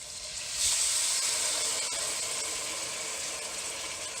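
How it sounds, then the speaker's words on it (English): Coconut milk poured into a pan of chickpea curry sets off a sudden hiss that rises sharply and then holds as a steady sizzle, with nothing else heard alongside it. "Now, add the coconut milk."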